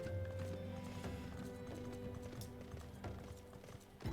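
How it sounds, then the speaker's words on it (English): A golden horse mount in the video game Final Fantasy XIV trots along with steady, rhythmic hoof clip-clops over a layered game music and ambient background, the footfalls close and clear throughout. "It's a golden horse."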